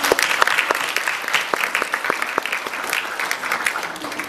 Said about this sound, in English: I would like you, our graduates, to give a huge applause to thank your families and to appreciate them